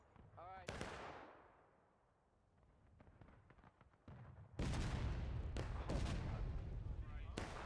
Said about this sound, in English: That was that cannon right there.